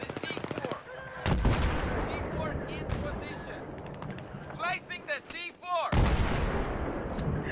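Battlefield 3 team deathmatch gameplay filled with loud, continuous gunfire and booming blasts, including grenade explosions, with bursts of rapid shots and heavy impacts throughout.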